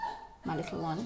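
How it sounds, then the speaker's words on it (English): A dog yips and whimpers in a short, high, wavering burst close by, with a person talking over it. "excuse that, that's my dog"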